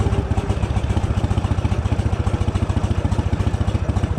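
A motorcycle engine idles while warming up, its steady rapid low thump of firing pulses close and loud with a light mechanical clatter on top, no voices.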